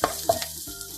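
Green chillies frying in hot oil in a pan for rava upma, giving a short, steady sizzle with a couple of stirring clatters near the start.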